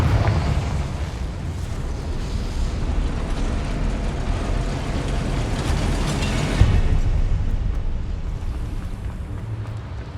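A Confringo blasting spell goes off in the Hogwarts Legacy video game, a dense, sustained roar of explosive rumble across the whole stretch, loud and continuous, with one sharper burst near the end.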